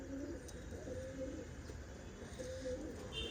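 Champion racing pigeons coo softly, giving a few low, repeated coos over a faint, quiet background, with no one speaking.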